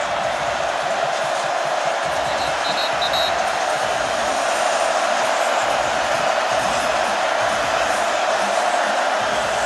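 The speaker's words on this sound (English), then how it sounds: "And a big crowd trying to distract him." A big stadium crowd at a college football game, Notre Dame at Virginia Tech, roars steadily to distract the kicker before a 48-yard field goal attempt, a loud continuous wash of cheering and noise with no break.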